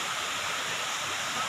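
A stream at a waterfall in Davao del Norte rushes as a dense, steady roar of falling water, continuous and fairly close.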